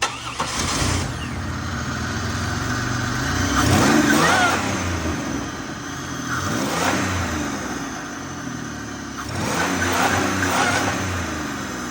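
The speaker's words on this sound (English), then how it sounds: "fire it up. Let's hear the blower real quick" A supercharged car engine fires up and revs hard in several loud, close bursts, with the pitch swelling and dropping back toward idle between each throttle blip.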